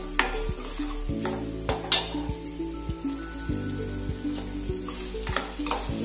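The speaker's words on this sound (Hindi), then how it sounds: "बीच बीच में हिलाते रहेंगे कि ताकि हमारे नीचे लगे ना" Savory peanut lapsi cooking in a pan is stirred with a utensil, giving a steady run of scrapes and knocks against the metal over a soft, continuous sizzle.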